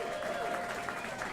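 A small comedy club audience claps scattered and sparse, a thin patter of hands lasting only a moment.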